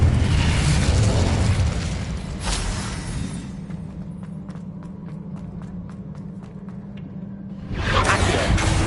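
Spells in Hogwarts Legacy burst as loud, rumbling explosions that fill the opening seconds. A quieter stretch follows with light rapid ticks, then another heavy blast roars up near the end.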